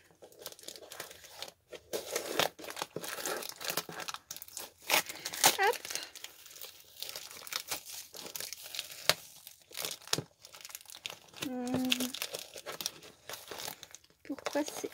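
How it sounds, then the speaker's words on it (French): Paper and plastic wrapping from a mailed contest package crinkle and tear in bursts at close range, with someone talking intermittently over the rustling. "Donc voilà, je déballe."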